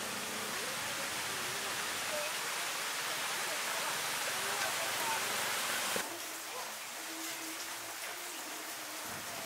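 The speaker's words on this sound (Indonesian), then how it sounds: "Aduh, hujan tiba-tiba turun nih." Sudden heavy rain pouring down outdoors, a dense steady hiss of falling drops that eases slightly near the end, with no talking.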